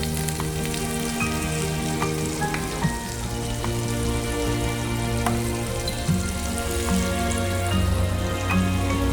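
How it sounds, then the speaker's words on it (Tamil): About 20 grams of butter melts in a kadai, frying with a steady crackling sizzle and scattered pops that go on without a break, along with a low, constant hum in the background. "ஒரு 20 கிராம் அளவுக்கு இதில் பட்டர் போட்டுக்கலாம்"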